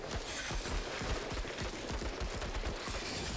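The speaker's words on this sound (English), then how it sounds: "Alright, 4 more shots out of this weapon." Rapid gunfire bursts from a weapon in the tactical game Menace, loud, dense overlapping shots in quick succession with no talk.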